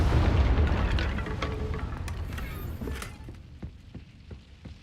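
A Confringo spell explosion in Hogwarts Legacy: a heavy, booming blast at the start that rolls and decays over several seconds, followed by scattered smaller pops and crackles fading out.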